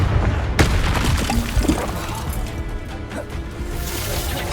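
Confringo blasting spell explodes in the fantasy game Hogwarts Legacy, a heavy crashing boom amid continuous combat noise and rumble, no talk.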